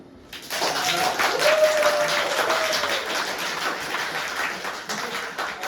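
A room of people, some come straight from work, applaud a poet taking the stage at a Kharkiv reading, a dense, steady wash of clapping that stays loud and sustained throughout with a few whistles on top.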